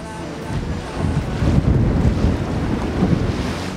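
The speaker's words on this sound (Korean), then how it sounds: "파도가 심상치 않습니다." Rough Mediterranean sea waves heard from aboard a small boat carrying several people near a sea cave, a steady dense rush of water and wind buffeting close to the microphone, loud and continuous without speech.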